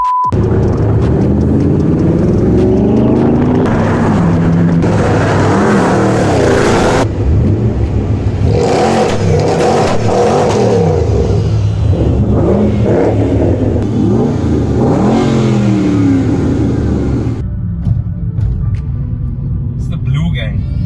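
A supercharged Mercedes C63 with a Y-Tech supercharger growls and revs hard at a race track, loud and close, its engine note rising and falling in repeated sweeps as people talk over it.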